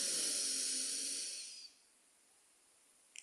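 A single deep, airy breath during a guided breathing meditation, a loud broad hiss lasting about a second and a half before fading into quiet room tone.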